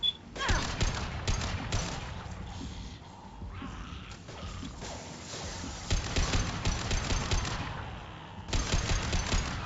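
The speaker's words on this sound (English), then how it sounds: "Taking heavy fire." Bursts of automatic gunfire in the sci-fi shooter Mass Effect 2, rapid clustered shots with brief lulls and metallic clatter, close and loud throughout.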